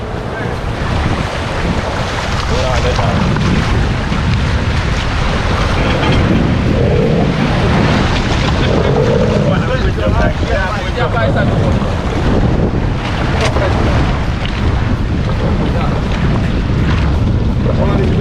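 A boat motor drones steadily over rushing water and heavy wind buffeting the microphone, with faint voices mixed in.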